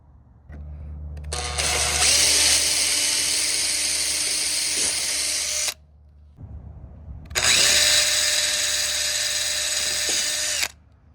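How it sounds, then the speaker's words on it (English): An electric drill fitted with a 1/8 inch bit runs in two loud sustained bursts, spinning up and whining steadily while boring a pilot hole for mounting Carr hoop steps on a Sprinter van, with quiet pauses between. "you're going to go in with an 1/8 inch drill bit and drill a hole out to start it."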